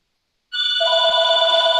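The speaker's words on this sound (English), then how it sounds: "my phone is ringing" A telephone ring cuts in abruptly after a moment of silence and sounds loud and steady with a bright electronic tone, with no talking.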